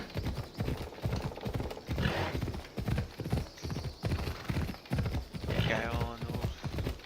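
Rhythmic hoofbeats of a galloping horse in Assassin's Creed Odyssey pound steadily throughout, with a brief whinny and some game-like background noise mixed in.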